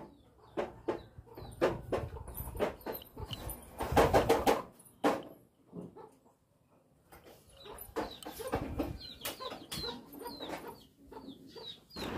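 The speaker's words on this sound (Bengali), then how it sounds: "আর আমাদের মুরগিটা দেখো একবার, গলায় নেই পশম, একটা দুটো বাচ্চা নিয়ে ঘুরছে।" A hen with a bare, featherless neck clucks repeatedly while walking about with one or two chicks in a village yard, with short bursts of clucking spread through the clip and a louder cluster near the middle.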